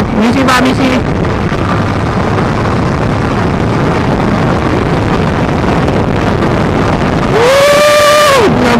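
A large group of motorcycles rides past, engines droning steadily throughout, with a loud rising and falling engine whine from a nearby bike at the start and again near the end.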